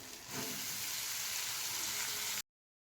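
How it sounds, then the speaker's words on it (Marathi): Fenugreek leaves drop into a pan of frying onion and tomato, the sizzle swelling louder after a soft start and holding steady before cutting off abruptly; no talking. "त्याच्यानंतर बघा आपल्याला मेथी टाकायची आहे।"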